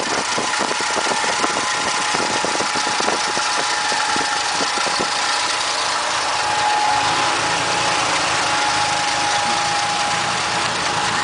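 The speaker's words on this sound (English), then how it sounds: "Sounds low and mellow, not wheezy like you'd typically expect from a 6-cylinder." A 1967 Ford six-cylinder highboy pickup idles steadily through its muffler with a low, mellow rumble, continuous and close with no talk over it.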